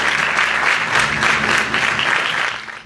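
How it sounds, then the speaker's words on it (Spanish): A strong round of applause from neighbours at a community gift event in Chile, dense steady crowd clapping that tails off at the very end. "Le damos un fuerte aplauso."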